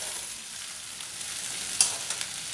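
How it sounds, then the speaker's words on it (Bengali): Cut okra sizzles on top of fried onions in a pan, a steady, moderate crackle with a couple of small clicks near the end. "এবার ওতে দিয়ে দেব কেটে রাখা ভেন্ডি।"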